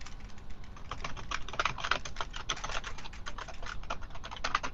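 A password is typed on a computer keyboard, a rapid, even run of soft, close key clicks with no voices.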